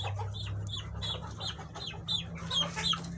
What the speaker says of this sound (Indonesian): inilah salah satu contoh ayam yang ngorok ya. Dia bernapas kurang lancar ya, kayak ada yang nyangkut.